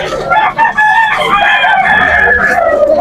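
A young rooster, a stag sold at a poultry market in Malolos, Bulacan, crows loudly and close by in one sustained, wavering call.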